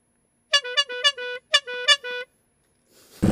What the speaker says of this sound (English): And then give it a little honk.